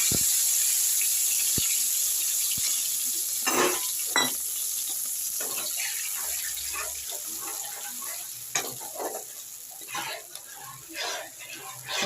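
Salted turmeric water poured into hot oil with fried green chilies while cooking hilsa fish curry, a steady close hiss and sizzle throughout with scattered crackles and stirring clinks.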